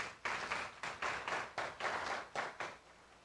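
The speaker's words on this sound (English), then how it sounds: "Please, a round of applause." Audience at an academic scholars' forum applauding, a fairly faint patter of clapping that comes in several short swells over a few seconds.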